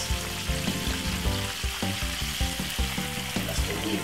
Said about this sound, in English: So I'm just gonna fry them like this now